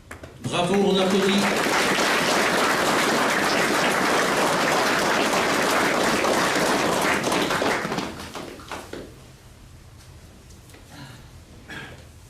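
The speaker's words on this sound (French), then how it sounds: "Bravo, on applaudit." An audience at a chivalric order's chapter ceremony in Mouscron bursts into loud, dense applause for about seven seconds before it thins into scattered claps and murmuring, with a brief voice at the start.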